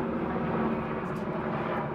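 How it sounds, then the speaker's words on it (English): Airplane flying overhead outdoors during gardening work, a steady low droning rumble filling the background without other sounds. "Sorry for the airplane noises."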